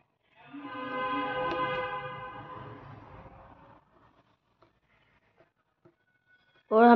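A train pulls away, a long, loud horn blast holding steady before fading into quiet, with a few faint clicks afterward and a sudden loud burst at the very end.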